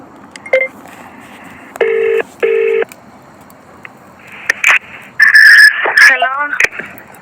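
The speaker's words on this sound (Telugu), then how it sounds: "నేను ఫోన్ చేస్తాను ఒకసారి ఫోన్ చేస్తా" Several loud touch-tone beeps from a phone keypad, then ringing tones and a short burst of electronic tones, over a quiet background.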